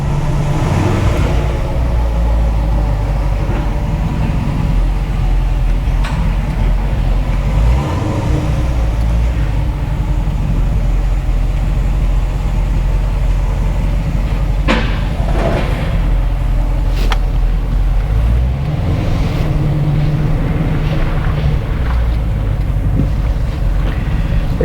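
From inside a Corvette fitted with American Racing 2-inch long-tube headers and a 3-inch Borla Atak cat-back exhaust, a loud, deep exhaust rumble drones continuously while driving, swelling and easing as the revs change, with wind noise mixed in.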